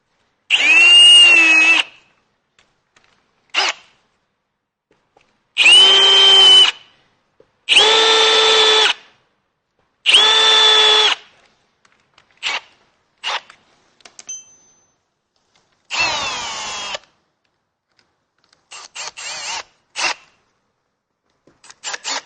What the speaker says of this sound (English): countersink these 4 holes